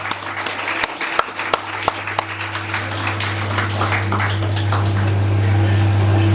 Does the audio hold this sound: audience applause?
yes